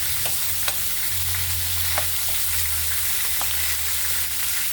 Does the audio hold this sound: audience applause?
no